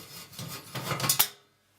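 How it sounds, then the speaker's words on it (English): A screwdriver turns out the screws on a household oven during cleaning, giving a short, close rasping scrape that builds over about a second, peaks in a sharp squeak, then stops into silence. "screwdriver found, the right attachment. So you go ahead, unscrew."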